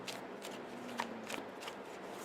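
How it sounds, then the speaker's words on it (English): A tarot deck is shuffled by hand in soft, steady riffling bursts, close and continuous, over a low background hum. "I know I'm also shuffling a little weird because my wrist."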